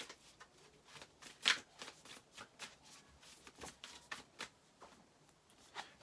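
Tarot and oracle cards shuffled by hand in a quiet room, a steady run of soft riffling flicks and slaps with one sharper snap partway through, no talking.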